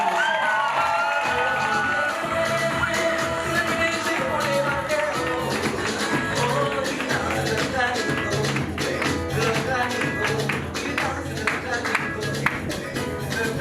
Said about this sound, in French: veuillez applaudir pour lui s'il vous plaît